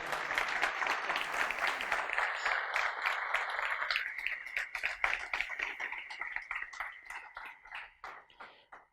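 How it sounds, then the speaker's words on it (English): Dense applause from a tech-conference audience after a talk on unit testing at DrupalCamp fills the first four seconds, then thins into scattered, individual claps that trail off. "You can clap, yeah, please."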